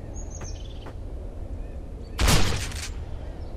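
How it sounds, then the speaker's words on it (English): Machine gun fire from the Murder Miners shooter game, heard as one short, loud, close burst standing out against a steady game background with a few faint chirping tones earlier. "Ooh, machine gun."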